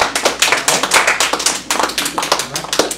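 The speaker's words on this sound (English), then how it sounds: "Well, let's give him kind of a round of applause there." A small group in a classroom claps with quick, uneven hand slaps, close and fairly loud, in a loose burst that stays steady for about three seconds.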